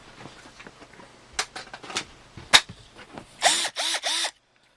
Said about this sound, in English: I'll get a drill and we'll show them how it looks like with that.